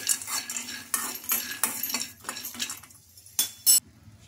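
Peanuts fry in a pan for a semolina snack recipe, with a spoon or spatula scraping and clinking against the metal in repeated bursts over a light sizzle, close up, with no speech.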